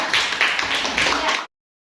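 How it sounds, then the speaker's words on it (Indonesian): A classroom group claps for a team of presenters in a short, even burst lasting under a second and a half before cutting off abruptly. "tepuk tangan dulu untuk kelompok 2"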